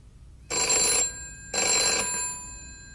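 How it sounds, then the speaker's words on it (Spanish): A telephone rings in two bright electronic bursts, each about half a second long, separated by a short gap. The rings are close and clear against a quiet background. "Ahora conteste el teléfono."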